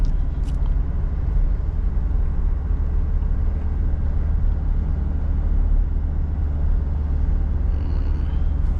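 A Toyota Innova Reborn diesel with manual gearbox drives along a rural road, its engine a steady low rumble around 1500 RPM in fourth gear at moderate speed, heard from inside the cabin, continuous and even.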